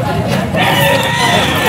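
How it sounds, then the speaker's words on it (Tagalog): Chickens and a rooster crowing close by at a pet market, a drawn-out crow rising over scattered clucks and background chatter. "Ay, mga manok niya."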